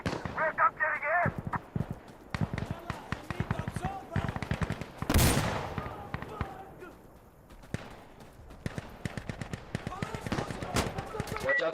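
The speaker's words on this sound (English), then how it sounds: "Watch out for the mortars." Mortar and gunfire crack and thump in a chaotic online shooter battle, with dense bursts of shots, one big booming blast in the middle, and voices talking over the din.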